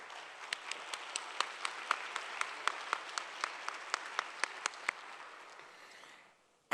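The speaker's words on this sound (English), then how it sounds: "So please help me give another round of applause to President Han and the GNSM team" Audience at the ASPAC 2024 opening ceremony applauding President Han and the GNSM team, a soft, even wash of clapping with distinct single claps popping out in a steady rhythm, fading away at the end.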